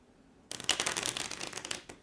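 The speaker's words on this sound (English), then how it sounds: "like a little riffle shuffle" A quick riffle shuffle of playing cards, a close, crisp rapid flutter lasting about a second and a half after brief quiet.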